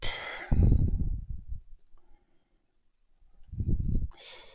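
Cutters snip through wiring for a robot's bumpers, leaving a couple of close, sharp clicks set apart by brief handling rustles and quiet pauses.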